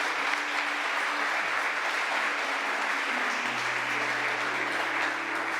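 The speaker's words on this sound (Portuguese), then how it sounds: "Vamos aplaudir Jesus só para movimentar." A church congregation in Rio de Janeiro applauds during a sending-off service, a steady wash of many hands clapping at moderate distance that holds evenly throughout.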